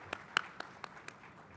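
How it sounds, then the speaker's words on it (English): A handful of scattered, separate hand claps ring out at a formal event honouring a president. They are faint and brief, about six distinct claps in under two seconds. "Please, another clapping for the president."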